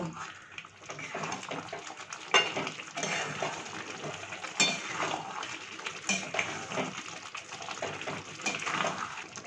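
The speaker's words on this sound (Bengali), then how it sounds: "এই সবগুলো দিয়ে আবার একটু কষিয়ে নেব।" Chicken being stir-fried with spices, including Kashmiri chili powder, in a pan, producing steady close clatter and scraping of a utensil against metal over a continuous hiss, with a voice faintly present underneath.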